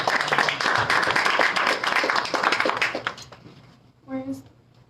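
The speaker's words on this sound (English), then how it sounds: "I want you to give a hand of applause to your Diaspora coordinators, to Herman." Applause from an audience at a consultative meeting, brisk scattered clapping from a crowd lasting about three seconds before stopping, followed by a brief voice.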